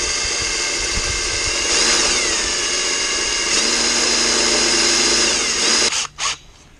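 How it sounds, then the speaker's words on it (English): A power drill bores a pilot hole with a drill bit during a soft wash trailer build, a loud sustained high whine that shifts pitch as it bites, then stops abruptly with a brief final burst. "So this is a drill bit. I'm just going to make a pilot hole."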